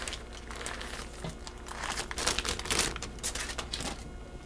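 Wrapping is peeled back from a freshly baked coffee date bread, giving close, soft crinkling and crackling that builds in the middle and then eases off.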